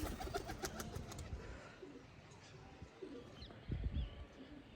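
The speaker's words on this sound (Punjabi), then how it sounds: "ਇੱਕ ਕਬੂਤਰ ਇੱਕ ਕਬੂਤਰੀ ਤੇ ਉਹ ਵੀ ਉੱਡ ਰਹੇ ਨੇ" Flying pigeons coo softly in short bursts amid faint outdoor background noise, with a few brief flutters and knocks nearby.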